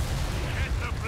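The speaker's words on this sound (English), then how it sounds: "Artillery strike underway!" Artillery strike in Company of Heroes 3, a steady low rumbling barrage of booms and bursts lasting about a second, loud and dense, with voices mixed in.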